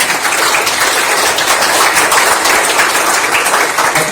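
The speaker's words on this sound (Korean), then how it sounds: "박규택 이사님 큰 박수로 환영해 주시기 바랍니다" Steady applause from an audience at a science foundation's first-anniversary forum, a dense wash of many hands clapping together, even and fairly loud throughout, with no voices standing out.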